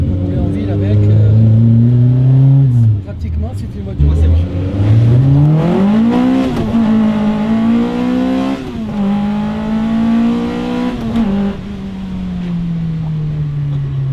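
Talbot Samba rally car with a 1580 cc engine, enlarged bore and stroke, twin 45 double-barrel carburettors and a 4-into-1 exhaust revs hard and up close, pitch rising and falling through several loud sweeps.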